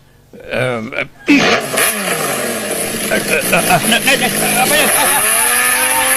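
A motorcycle engine revs and runs with rising and falling pitch in a comic Ilocano scene involving a tricycle ride, loud and close, with people talking and shouting over it throughout.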